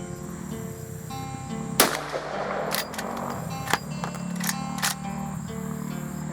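Sharp, loud reports from a Rossi R92 lever-action carbine chambered in .45 Colt, fired outdoors at range targets, with a couple of prominent cracks followed by smaller metallic clacks from working the lever, and no speech.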